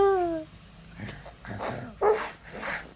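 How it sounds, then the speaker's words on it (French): A dog yips and whimpers several times in close succession, with short high whines and throaty barks at close range and no talk over them. "c'est le chien."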